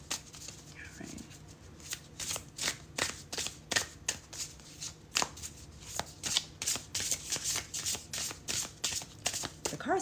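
Watercolor tarot deck being shuffled close by, a long run of crisp, rapid card riffles and flicks in uneven bursts at low volume, with no talking.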